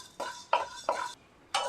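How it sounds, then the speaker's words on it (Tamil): Coriander seeds dry roasting in a hot kadai, a spoon scraping and stirring in four short bursts with pauses between, close and fairly quiet, no sizzle. "அதில் நம்ம எடுத்து வச்சுருந்த மல்லி இருக்குது பாருங்கள், தனியா, அது சேர்த்துட்டு ஒரு நிமிஷம் நல்லா வறுத்துக்கணும்."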